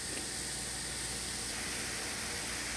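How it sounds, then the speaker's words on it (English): Cauliflower rice sautéing in a pan for keto fried rice gives a steady, even sizzle and hiss that holds for the whole stretch, with no pauses and no voices. "this has been sauteing for about 3 minutes now"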